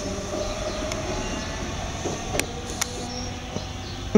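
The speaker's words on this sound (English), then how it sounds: "Interesting train." A train rumbles steadily past at close range, wheels clattering over the rails with occasional sharp clicks and a faint squeal near the end.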